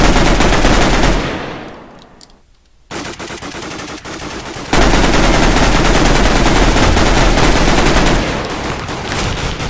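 Gunfire in a Minecraft Counter Strike match rattles in rapid automatic bursts, loud and close. It drops away briefly to near quiet, then resumes as dense, continuous firing.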